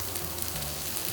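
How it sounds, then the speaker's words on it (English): Garlic, onion and bok choy stems sizzle hard in a hot pan, a dense continuous crackle and hiss that stays loud and even throughout, with no voices. "That way you hit the pan and it starts to sizzle."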